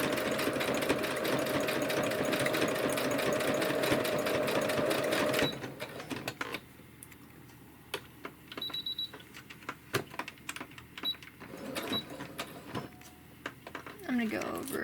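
A sewing machine runs continuously while stitching a washcloth soap saver pocket, then stops, leaving scattered clicks and handling noises. A person talks quietly during the quieter part.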